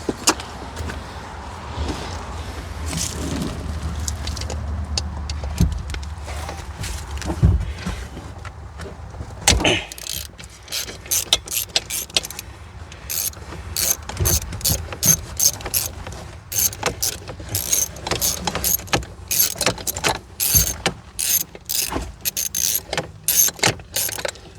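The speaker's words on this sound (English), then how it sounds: "Got to get our 10mm out here to get these little bolts off." A ratchet with a 10mm socket works small bolts out of aluminum on a boat, with dense rapid clicking in repeated close bursts after some quieter handling and rummaging at the start.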